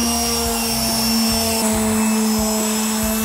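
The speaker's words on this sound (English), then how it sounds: "So we've got everything sanded down." Power sander working over a pallet wood bench, a loud steady whine with a constant high tone and rough rhythmic grinding as it moves across the boards, no talking.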